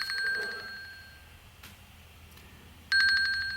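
An Apple Watch Series 3 (42mm) timer alert plays a bright electronic chime in two bursts, one at the start and one near the end, separated by a quiet gap, and the watch vibrates as well.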